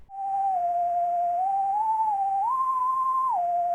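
A synthesized whistle sound effect in a drum and bass track holds a steady, sustained tone that steps up in pitch twice, then drops back down. It plays alone and clearly for about four seconds.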